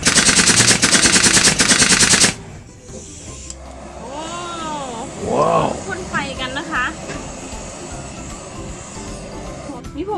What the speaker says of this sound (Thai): ใส่วิปนมแล้วเดี๋ยวเขาจะพ่นไฟด้วยค่ะ